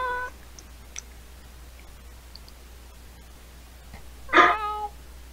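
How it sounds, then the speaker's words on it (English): A cat gives a single short meow near the end, clear and fairly close, after a quiet stretch with faint clicks and a low steady hum underneath. "That's a cat."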